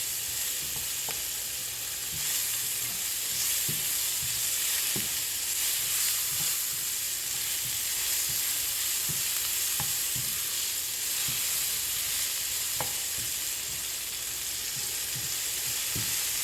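Onions frying in a pan for vegetarian fried rice, a steady dense sizzle throughout with occasional soft clicks of stirring, no talk.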